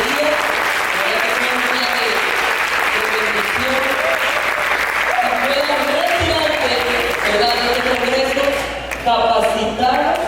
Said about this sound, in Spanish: Vamos a dar un fuerte aplauso al Señor por este día.